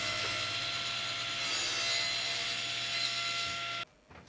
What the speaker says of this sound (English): I started milling up some nice thick edge banding